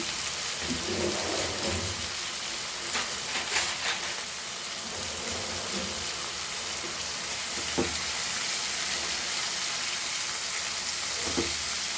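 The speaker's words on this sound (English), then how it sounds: "Fry the onion very nicely." Onion fries in a pan for a Goan bhaji, a continuous close sizzle and crackle with a few soft stirring knocks and no voices.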